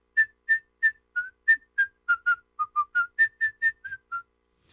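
A series of about sixteen short, tuned whistle bursts in a steady rhythm, each a brief clear note with slight pitch changes from one to the next, close and alone with no other sound.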